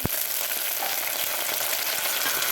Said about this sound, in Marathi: बटाटासुद्धा फ्राय करून घ्यायचं आहे